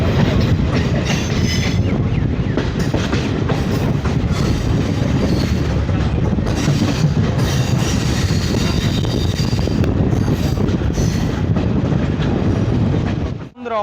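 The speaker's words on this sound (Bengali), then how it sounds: "আমাদের ট্রেনটির নাম হচ্ছে মালদা কোর্ট শিলিগুড়ি ডেমো।" Malda Court–Siliguri DEMU passenger train, number 75719, running on the line: a loud, steady rumble of wheels and carriages with rhythmic clatter throughout, ending in a brief dip.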